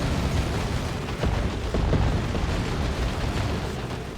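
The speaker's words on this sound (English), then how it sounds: "going to have some big old explosions" Rumbling explosions boom in a Warhammer 40,000: Dawn of War 2 battle between Chaos Space Marines and Orks, a dense continuous roar with a few sharper blasts rising through it.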